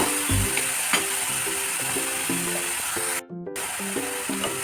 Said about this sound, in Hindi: प्याज को हमें देखिए इस तरह से चलाते हुए अच्छी तरह से भून लेना है